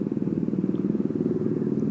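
Steady, close putter of a 2005 Yamaha Mio automatic scooter being ridden, its small engine pulsing rapidly and evenly under road and wind noise, with no voices.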